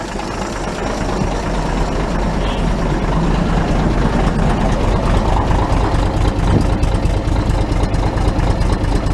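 A car engine idles steadily with a newly fitted muffler, a continuous low rumble with a faint mechanical knock running evenly throughout, close and loud, with no talking.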